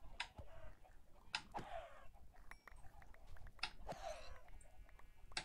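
Chickens in the Minecraft video game clucking in short, repeated bursts at moderate volume over a steady low background, with no talk.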